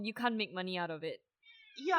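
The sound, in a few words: cat meowing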